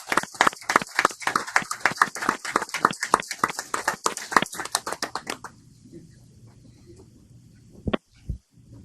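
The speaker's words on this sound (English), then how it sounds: "Round of applause" Close, crisp applause from a small group at a planning session, a rapid run of sharp claps for about five seconds that stops abruptly, followed by quiet room tone and a couple of stray thumps.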